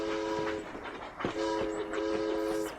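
Train sound effect from a digital card game, a chugging rail rumble with a layered horn-like whistle tone sounding twice over the short stretch.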